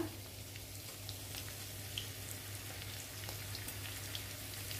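Fish roe fries in a pan with a soft, steady sizzle and scattered faint pops, low and continuous under a constant hum, with no one talking.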